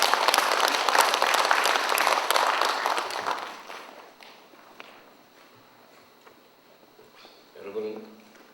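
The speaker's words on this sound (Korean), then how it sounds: "힘찬 박수 부탁드립니다." Audience applause at a university labor union's 15th anniversary ceremony, a loud dense burst of clapping that fades out over about four seconds, leaving quiet room noise with a few scattered claps.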